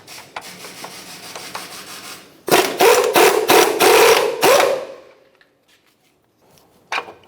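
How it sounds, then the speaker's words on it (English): A 17mm socket on a ratchet loosening the sway bar link nut on a 2004-2005 Nissan Titan, with soft ratcheting clicks and then a loud run of rapid grinding clicks before the tool falls quiet. "After that, we'll use a 17mm socket to remove the nut."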